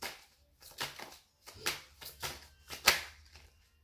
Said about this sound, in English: Look, every time I shuffle,